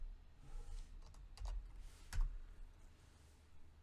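Typing on a computer keyboard at a terminal, a handful of close, crisp key clicks spaced irregularly over a quiet room background.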